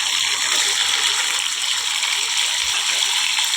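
Cashews and raisins frying in hot ghee give a steady, loud hiss and sizzle with dense crackle, continuous and close throughout.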